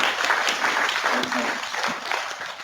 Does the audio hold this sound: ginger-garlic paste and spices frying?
no